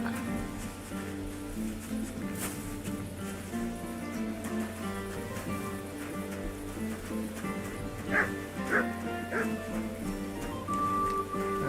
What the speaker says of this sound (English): What's my dog barking at?